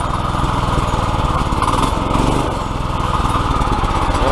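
A Predator 212cc engine mounted on an ATV quad runs at its first startup, a loud, steady, buzzing putter close by that holds constant throughout with no talking.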